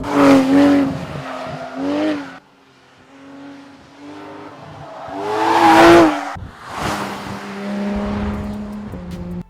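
Porsche 911 991 GT3 engine screaming at high revs while driving, loud and close, with rising rev sweeps, a brief dip, then another surge to a peak and a sharp cut before climbing again.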